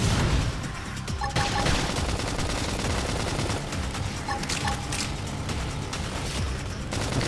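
Flame grenade attack erupting in Xenoblade Chronicles X combat, a dense continuous barrage of bursting blasts and crackling fire over layered battle effects and music, loud and sustained throughout.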